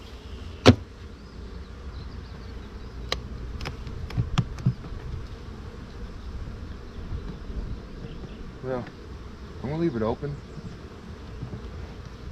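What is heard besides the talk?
honey bees buzzing at apiary hive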